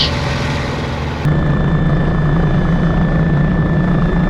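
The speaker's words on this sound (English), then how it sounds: "So I'm picking up the helicopter" Continuous rhythmic thudding of helicopter rotor blades with a steady turbine whine at an airshow in the Alps, fairly loud and nearby throughout.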